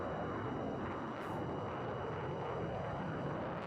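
Steady roar of airplane engines in the video game Tiny Combat Redux, a dense continuous drone holding at an even level throughout.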